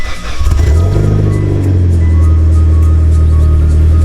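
A 2008 Mitsubishi Lancer Evolution X cold-starts with a short starter crank, then settles into a loud, steady, deep idle close by.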